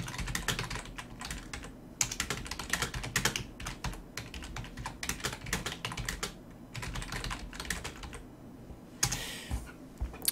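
Rapid typing on a computer keyboard during a StarCraft 2 match broadcast: dense, close clicking and clacking in uneven bursts for about ten seconds, with short pauses and no talk.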